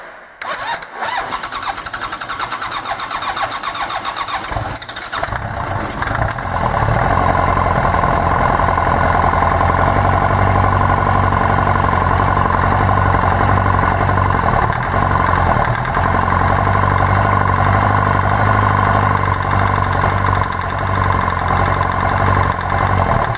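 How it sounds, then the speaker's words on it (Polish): A rebuilt car engine sitting on a pallet outside the vehicle cranks and fires, then runs at a loud, steady idle with a slightly knocking, mechanical clatter close by. "oto dowiedzieliśmy się, że nasz silniczek żyje i gada."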